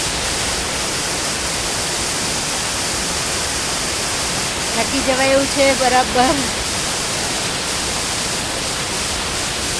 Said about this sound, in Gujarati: આ બાજુ પણ ધોધ